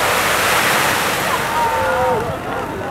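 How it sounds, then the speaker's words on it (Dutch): Burning cooking oil flaring up after water is thrown on it at a fire brigade safety-day demonstration outdoors, a loud sustained roaring whoosh of flame that slowly eases off, with faint voices in the background. "Dit is de consequentie als je dus water op olie gooit wat in brand staat."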